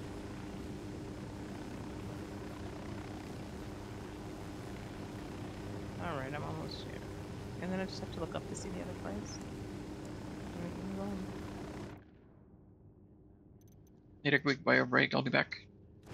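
In a video game, a helicopter drones steadily under voices and talk from players, then drops away near the end before a brief burst of speech.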